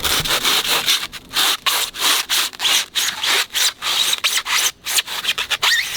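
A flat hand saw rasps back and forth through privacy fence wood in quick, loud strokes, each pass a harsh scraping burst with brief gaps between.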